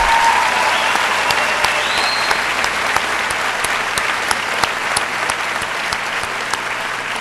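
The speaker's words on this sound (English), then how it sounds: "can we give them one more round of applause?" Steady, full audience applause fills a high school graduation ceremony for its whole length, with sharper individual claps standing out and a whistle rising briefly.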